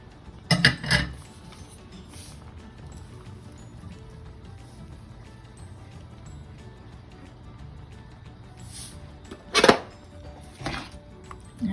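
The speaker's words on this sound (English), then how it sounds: "Now stir it to stir the salt around that you just put in there." A spoon stirs a pot of pozole to mix in salt, producing a few sharp metallic clinks and scrapes against the pot in short bursts, with quiet room tone between them.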